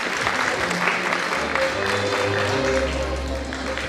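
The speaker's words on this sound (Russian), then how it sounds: "ваши аплодисменты принцессе Авроре" A theatre audience applauds a ballet dancer playing Princess Aurora, a dense continuous wash of many clapping hands with music faintly underneath.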